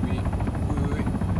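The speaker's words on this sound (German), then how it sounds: "Ja, da vorne ist ein Heli." A helicopter in the ARMA III military game, a loud continuous rotor thrum with a rapid pulsing beat, dominating and close throughout.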